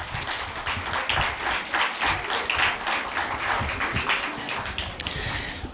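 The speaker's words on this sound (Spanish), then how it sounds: "desde aquí le pido un gran aplauso para ellos." Audience applause at a town fiesta proclamation for the Fiestas del Carmen in Agüimes, a dense, steady wash of many hands clapping that stays loud and continuous throughout, with no talk over it.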